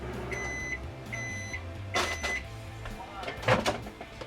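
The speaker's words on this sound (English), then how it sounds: "then put into the microwave first" A kitchen microwave oven beeps in short repeated tones and is handled, with door clunks and a louder clatter, as milk mixed with beet powder is put in to heat for pink donuts.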